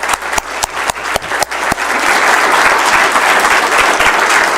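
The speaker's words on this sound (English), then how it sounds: "So just another round of applause for these folks." A city council meeting audience breaks into applause, first scattered sharp claps building quickly into a loud, dense, sustained round from the whole room.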